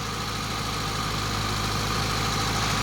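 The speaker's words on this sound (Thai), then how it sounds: "นะครับเครื่องยนต์ถือว่าเงียบ" Mitsubishi car with a 4G93 engine idling, a steady low hum with a faint even mechanical rattle, continuous and close, no voices.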